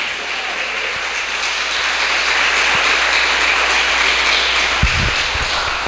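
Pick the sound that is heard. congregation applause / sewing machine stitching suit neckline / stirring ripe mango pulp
congregation applause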